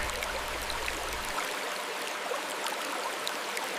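A gentle, steady rush of falling water at Dam Hop Waterfall in a forest, over moss-covered stones, soft and continuous like a small cascade heard from nearby, with no other sounds.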